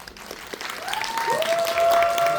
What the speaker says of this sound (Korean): 뜨거운 박수로 맞이해 주시면 감사하겠습니다